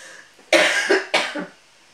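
Two harsh coughs, close and loud, each breaking into a short second burst, followed by quiet.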